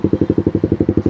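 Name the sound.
Suzuki GSX R150 motorcycle idling with modified Proliner exhaust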